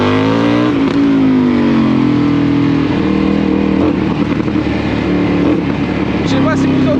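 A BMW GS 1250 motorcycle accelerating on a test ride, its engine droning steadily and loud with rising pitch changes, a voice talking over it throughout.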